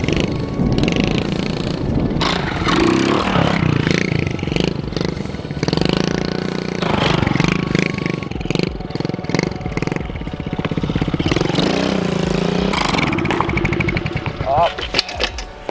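A dirt bike engine runs close by with an uneven, popping idle and occasional revs, then sputters and weakens toward the end as it stalls. Someone talks over it.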